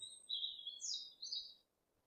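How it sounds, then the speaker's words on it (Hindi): A sparrow chirps alone in quiet surroundings, a few thin high tweets in quick succession, faint and clear, with nothing else heard. "ये है बच्चों स्पैरो।"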